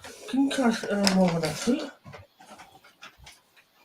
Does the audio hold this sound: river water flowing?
no